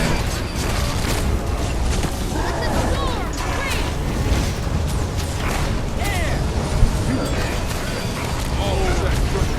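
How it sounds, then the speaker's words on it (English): Busy Guild Wars 2 combat audio with booms, bursts of gunfire and mechanical clatter blending under voices talking throughout. "it's going to be like a whole bunch of explosions and shooting."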